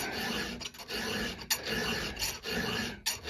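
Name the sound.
filing a chainsaw chain to sharpen it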